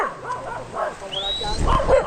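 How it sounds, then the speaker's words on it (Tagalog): A big dog on a rural farm property barks and yips in short bursts at close range while people talk nearby. "Pagkalalaki ng aso eh."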